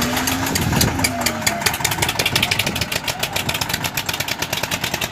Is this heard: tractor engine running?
yes